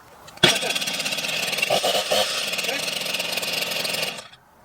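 A STIHL MS 251 C-BE chainsaw catches on a gentle pull-start, its engine bursting to life abruptly and running loud and steady at a buzzing idle for several seconds before cutting out.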